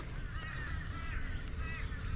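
Crows caw beside a lake in the afternoon, a steady chorus of harsh calls repeating continuously at moderate distance over faint outdoor background noise.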